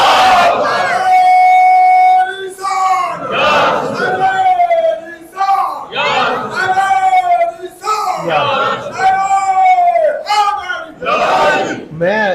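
A crowd at a Naqshbandi religious gathering chants religious slogans in loud, rhythmic, call-and-response bursts of many voices, with brief pauses between shouts.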